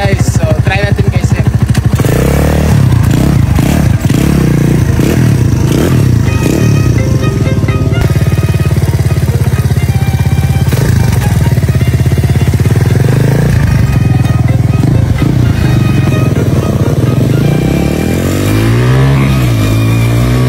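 A Euro 150 motorcycle engine, loud and close, revving hard with rising and falling throttle blips over a steady rough idle for about twenty seconds, with no talk over it.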